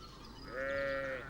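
A single merino sheep bleats once, a short wavering cry, moderately near over a quiet background hiss.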